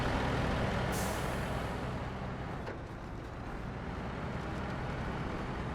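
A truck towing another out-of-fuel truck through mud and snow in the game SnowRunner, with a steady, low engine drone and a brief hiss like an air brake early on, continuous and fairly quiet, no talk.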